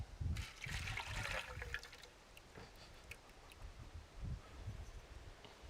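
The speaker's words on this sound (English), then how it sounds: "We'll pour our brine in." Salt brine poured over meat in a container before hot smoking, a soft splashing trickle that is loudest at the start and then settles into a faint, steady dribble.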